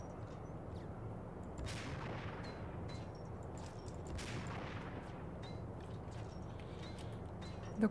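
Gunfire in the video game Max Payne, scattered sharp shots with a couple of heavier blasts over a dense rumbling background, moderately distant, no talking.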